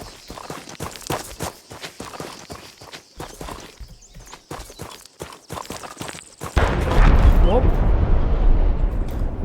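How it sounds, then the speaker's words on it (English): A vehicle blows up in a PvP video game: after scattered footstep-like thuds and clatter, a sudden loud blast gives way to a sustained heavy rumble and roar. "Another random vehicle explosion seems to have occurred."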